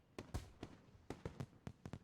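A rapid volley of firework explosions from the Katawa Shoujo video game, many sharp cracks and booms fired in quick irregular succession, fairly close and punchy.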